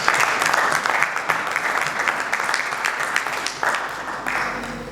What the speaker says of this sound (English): please give Ms. Madeline Kimei a big round of applause